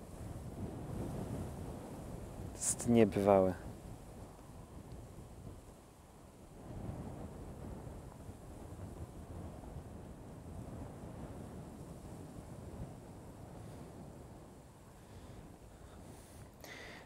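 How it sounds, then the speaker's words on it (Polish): Strong wind rushes steadily across an open space through ornamental grasses, buffeting the microphone, with a brief loud gust and a few spoken words early on. "Zobaczcie, jak opierają się te trawy wiatrowi."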